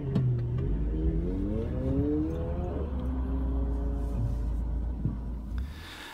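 A McLaren P14 pulls away on a UK road, its engine note climbing through several rising gear pulls before settling into a steady drone and fading as the car moves off.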